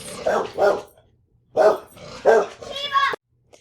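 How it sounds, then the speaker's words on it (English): A female dog barks furiously at something outside the house, several loud close bursts in quick pairs, then a pause and another run of harsh barks ending in a strained, whining yelp. "my dog heard something outside that made her go absolutely ballistic"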